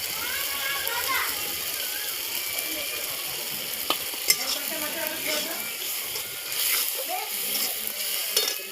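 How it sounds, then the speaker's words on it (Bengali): Mustard-based spice mixture with turmeric and chili powder frying in oil for a soybean and pointed gourd dish, a steady close sizzle with occasional utensil clicks and stirring scrapes, with faint voices in the background. "যতক্ষণ তেল না ছাড়বে ততক্ষণ কষতে থাকবে"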